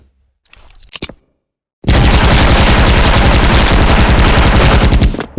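A couple of brief clicks, then a loud, continuous burst of rapid Flash Uzi Gen 2 submachine gun fire in a video game, rattling steadily for several seconds.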